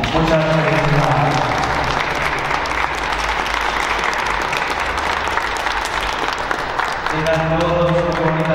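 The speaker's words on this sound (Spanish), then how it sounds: "Vamos a ofrecer un fuerte aplauso nuevamente a Naí en el día de sus 15 años." Sustained, loud applause fills the space at a fifteenth birthday celebration for Naí, with steady crowd clapping throughout and a voice speaking over the start and end.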